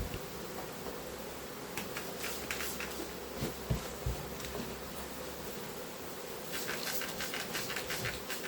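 Honeybees buzzing steadily during a transfer into transparent hives, a dense low hum with scattered brief clicks and rustles throughout, no voices.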